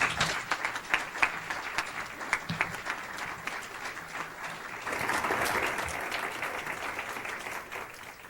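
An audience applauds to welcome Mayor Bob Knight in Manhattan, starting as scattered claps and building into a fuller, steadier round of clapping.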